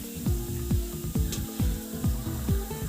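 Bread gulab jamun balls fry in hot oil in a pan, giving a steady sizzle, while a utensil stirs them in regular, repeated scraping strokes about twice a second, close up and with no talking.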